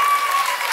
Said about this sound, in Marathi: जोरदार टाळ्या वाजवा जोरदार टाळ्या.